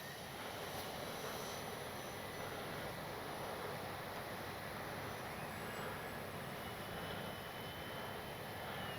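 An X-Fly Spitfire radio-controlled model plane flies past, a steady, fairly faint engine drone that holds evenly throughout with no talking.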